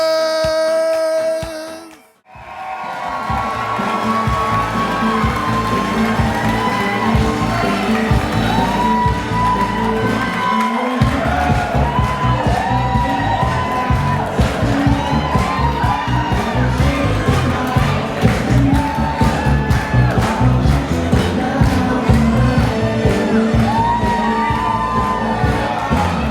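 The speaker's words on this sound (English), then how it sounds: "please give a big round of applause for the mother and the father of the groom, Minerva and Mario Lugones." Wedding reception guests applaud and cheer for the groom's parents, a loud, sustained crowd roar of clapping, whoops and shouts that swells after a brief pause and carries on steadily, with music-like tones woven through.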